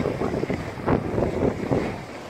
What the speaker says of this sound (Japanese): お天気いいけど風がすっごい強くて波も荒いですね